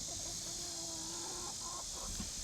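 Backyard hens cluck softly and intermittently with a few drawn-out calls, fairly quiet against a steady background hiss, with young chicks nearby.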